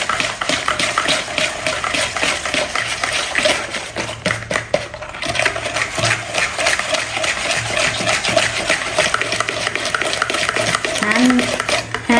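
Sugar and eggs beaten by hand with a whisk for a chocolate brownie batter, a rapid steady clicking and sloshing against the bowl, close and continuous, with a brief pause partway.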